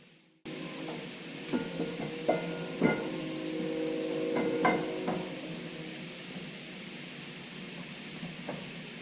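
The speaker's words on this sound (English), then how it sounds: "Then gave it a few taps with a rubber hammer," A rubber hammer gives a few dull taps on a camshaft adapter in an engine rebuild. There are several separate soft knocks in the first half, with faint metallic ringing and a steady background hum.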